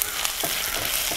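Chopped onions frying in a pan, two of them finely cut, while cooking a Kerala-style raw breadfruit stir-fry; a steady broadband sizzle fills the short stretch with a few faint stirring knocks and no voices.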